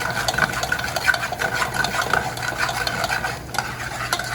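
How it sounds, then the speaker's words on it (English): Onions sauté in hot oil with a steady close sizzle, punctuated by regular scraping and clinking of a utensil stirring in the pan. "Now that I've sauteed the onions for just maybe another 20 seconds"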